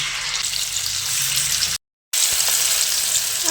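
Ground spice paste hits hot oil in a pan for a vegetarian cauliflower curry, giving a loud, steady broadband sizzle close by that breaks off into silence for a moment midway, then resumes.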